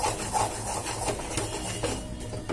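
Mysore pak mixture stirred in a pan on the stove, a steady close scraping and rubbing that runs without pause, with no voices.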